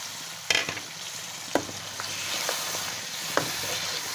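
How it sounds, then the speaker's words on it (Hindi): Goat trotters (paya) fry and sizzle in a pan with a steady broadband hiss, broken by a few sharp clanks and scrapes as a spoon stirs them; no voices. "अब हमने इसमें पाए डाल के भून लेना है।"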